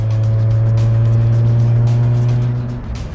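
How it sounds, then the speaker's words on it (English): A close, loud Alfa Romeo engine hums at a steady low pitch while the car drives along, holding an even drone before easing off near the end, with no talk. "the engine's got a very nice exhaust note to it"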